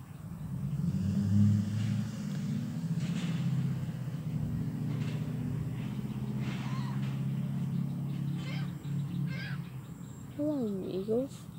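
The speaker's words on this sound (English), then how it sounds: "my car is driving past" A car drives past nearby with a low rumbling engine that swells and then fades, while birds chirp and caw in the background and a short whistling call appears near the end.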